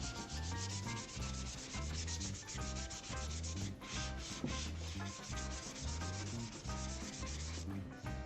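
Steady back-and-forth hand sanding of MDF, a continuous rhythmic scratchy rubbing with regular strokes, close and even throughout, no voices.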